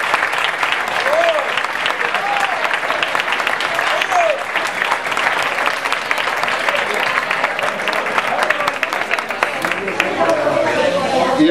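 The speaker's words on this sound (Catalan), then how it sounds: "Així que el primer aplaudiment," Welcoming applause from an audience at a Fallera Mayor election event in Valencia, dense continuous clapping at a lively level with a few voices and whoops over it throughout.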